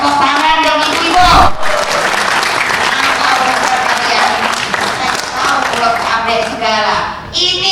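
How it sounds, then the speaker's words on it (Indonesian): Women in the crowd at a political speech applaud loudly, a close, dense burst of clapping mixed with cheering and voices that runs throughout, with a sharp thump early on. "Tepuk tangan dong ibu-ibu."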